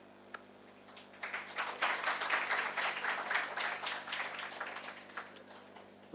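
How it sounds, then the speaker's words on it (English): An audience breaks into applause after a lecture on the Indian polity, the clapping swelling quickly into a dense, sustained round that holds steady for several seconds with no voices over it. "Does this clapping mean the end of story?"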